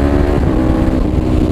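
A Kawasaki Ninja 250 FI motorcycle with an aftermarket quick shifter runs close and loud, its engine a continuous droning buzz with a brief pitch shift as it changes gear.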